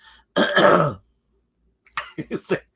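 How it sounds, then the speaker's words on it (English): A loud, harsh cough-like burst, then after a pause a run of four short, rapid coughs or throat-clearing sounds, close up. "forgive me if I'm coughing"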